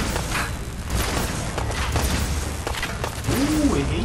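Gunfire in the video game Fallout 4, a few booming shots and impacts over a dense, rumbling mix of game sound effects, loud and close throughout.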